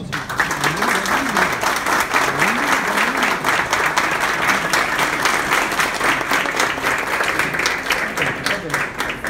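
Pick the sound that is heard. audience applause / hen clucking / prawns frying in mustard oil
audience applause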